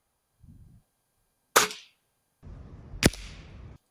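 A GAMO Varmint .177 break-barrel air rifle fires one sharp, loud crack, preceded by a brief crisp snap and low rustles, with a short rumbling tail after the shot.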